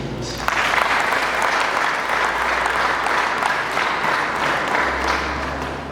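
Crowd applause for a newly elected district mayor bursts in after a brief pause and holds as a broad, even wash of many hands clapping for several seconds.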